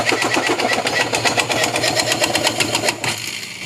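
A KTM RC 200 motorcycle engine cranks and runs on self-start in neutral, with a rapid, steady mechanical knocking clatter, loud and close throughout, the rhythm easing slightly near the end.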